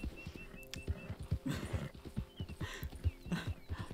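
Horse hooves clip-clop in the video game Red Dead Redemption II, a steady walking rhythm of close, clear hoof strikes with a brief whinny-like call and faint background tones.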